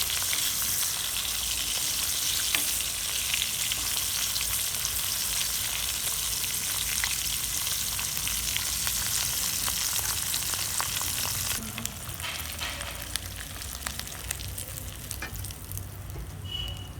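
Food frying in a pan until reddish for an Andhra dal and salted fish dish, a loud continuous sizzle that drops a little partway through, with scattered stirring clicks and no talking.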